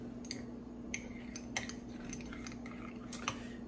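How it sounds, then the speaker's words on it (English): A spoon clinks and scrapes inside a small ceramic coffee cup, with several light, quick taps over a steady low hum, faint and close, with no voice. "I'm gonna give this a stir"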